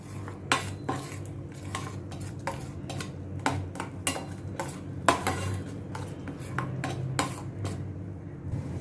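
A metal spoon scrapes and taps against a pan while spiced potatoes are mixed, giving a string of sharp clinks and scrapes at an irregular stirring rhythm, close and clear, with no talking.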